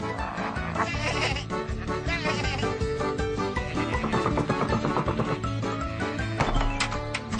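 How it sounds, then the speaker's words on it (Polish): Cartoon sheep bleat over a busy music score on a farm, several overlapping bleats rising and falling amid the music. "Oczywiście owce, jak to owce, nie były z tego zadowolone."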